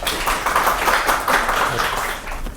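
An audience at a signing ceremony and reception claps in welcome as a speaker comes to the podium, a dense, steady round of applause from many hands throughout.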